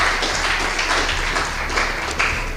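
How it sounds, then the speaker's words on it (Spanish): Church congregation applauding together during a Spanish-language worship service, a dense, steady wash of many hands clapping close by without pause. "Da un aplauso al Señor."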